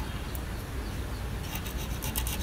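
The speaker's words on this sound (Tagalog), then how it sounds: "maliliit na kikil para sa paggawa natin ng kanal" A small metal file rasps a groove into a handmade suitcase key, the scraping strokes faint and steady at first, then growing into several brighter, harsher rasps toward the end.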